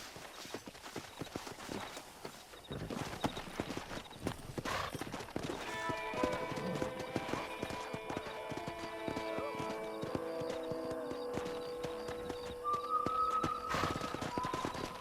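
Horses in the Red Dead Redemption video game, hooves clip-clopping and galloping in a steady rhythm with an occasional whinny, mixed with game music and ambient effects, no talk.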